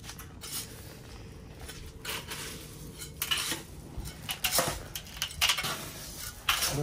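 Cement being mixed by hand for building a clay oven at home, heard as scraping, stirring and occasional clinks of a tool against a container, moderately close with irregular strokes growing busier toward the end.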